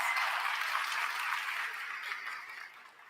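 Applause from a conference audience at a regional public meeting, a steady broad wash of many hands clapping that gradually fades toward the end, heard alone without talk.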